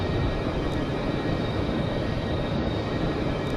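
Jet engines of an Avro 730 Vigilant throttling up in Flight Simulator X, a steady, dense roar holding constant and loud throughout with no talk.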